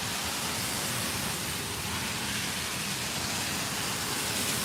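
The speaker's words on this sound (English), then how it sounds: "It's raining so hard because I don't want everything to get wet" Heavy rain pours down steadily outside a temple, a dense, constant hiss that stays loud and unbroken throughout.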